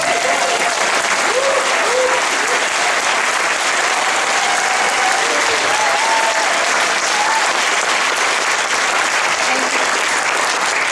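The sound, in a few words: audience applause for the filmmakers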